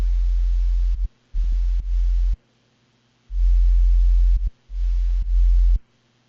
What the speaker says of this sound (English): while I figure out this bass line, I'm gonna like play it over a few times